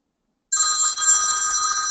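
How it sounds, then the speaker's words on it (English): A phone rings after half a second of silence, triggered by an automated call, with a steady electronic ring that sounds close and loud and continues without a break. "we're going to have this call my phone"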